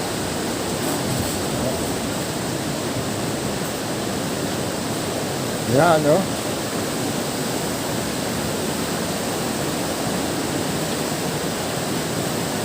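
Water pours steadily down from above into containers set out to catch it, a constant broadband rush that fills the whole clip, with a brief voice speaking over it midway.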